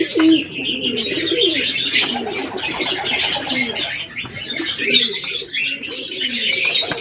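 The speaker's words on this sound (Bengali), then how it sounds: "এখানে অল্পই পায়রা আছে" A small group of pigeons coo continuously and up close, with chirps and soft rustling mixed among the throaty calls.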